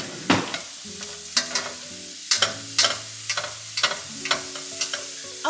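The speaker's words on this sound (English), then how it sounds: "we are just going to saute that up until it's soft" Diced onion sautéing in olive oil in a pan, a soft sizzle broken by sharp spoon-and-pan scrapes and clinks every second or so, with a steady tonal hum running underneath.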